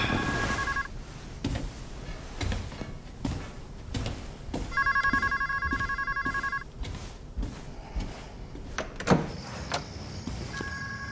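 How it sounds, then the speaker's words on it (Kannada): A telephone bell rings in several separate bursts, moderately loud, with quiet gaps and faint background noise between rings. "ನಿನ್ ಫೋನ್ ರಿಂಗ್ ಆಗ್ತಿದೆ"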